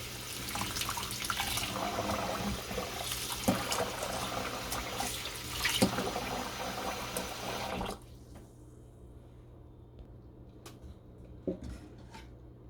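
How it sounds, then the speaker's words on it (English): Hot water runs from a tap into a kitchen sink while couscous is washed, a loud, steady splashing stream for about eight seconds that then cuts off, leaving quieter drips and small knocks. "and then just come in the sink right here. Wash it with hot water."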